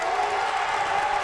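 A men's college basketball crowd roars in a packed gym during a Mary Washington Eagles versus Lynchburg Hornets game, a dense sustained wash of cheering and shouting.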